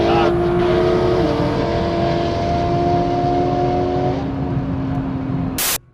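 Roaring engines of a Shelby GT500KR with 850 hp and a 700 hp Nissan GT-R racing side by side, loud sustained drone with a gear shift pitch drop, then an abrupt cutoff at the end.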